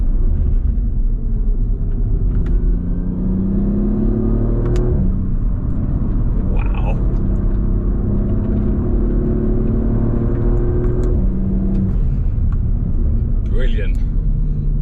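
An Audi RS 4 Competition driving fast around a banked circuit, with steady loud engine and road rumble from inside the car, rising and falling with the pace, and someone talking over it.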